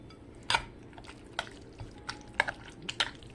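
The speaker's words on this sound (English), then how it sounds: "add about a 1/4 cup of sour cream to the bowl and stir it up" A spoon stirs sour cream into a squash casserole mixture in a bowl, making soft wet squelches and a few sharp clinks against the bowl, close and sparse with no talk.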